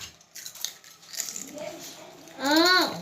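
Children crunch potato chips from crinkly snack bags in a home eating race, with scattered crisp, clicky bites and rustles close by, followed by a short high-pitched child vocalization near the end.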